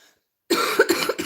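A short burst of coughing, several quick harsh coughs in a row, close to the microphone after a moment of silence.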